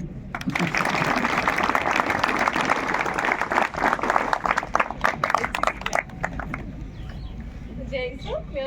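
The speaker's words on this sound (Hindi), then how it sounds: "अपने लिए तालियां" Audience applause at a film promotion event for Sky Force, a full burst of crowd clapping for several seconds that thins to scattered claps, with some background music and noise toward the end.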